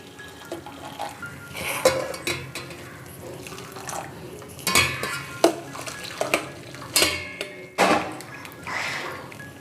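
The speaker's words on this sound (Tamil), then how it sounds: "ஸோ இந்த மாதிரி தண்ணிகளை வந்து இதில் ஊற்றிடலாம்." Curdled milk whey is poured into a strainer while making cream cheese at home: intermittent splashing and trickling liquid, mixed with scattered clinks of a bowl and utensils, close and fairly quiet.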